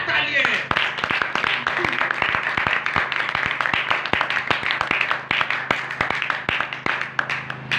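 A congregation at a Christian church gathering claps together in loud, dense applause that runs the whole time, with sharp individual claps standing out near the end.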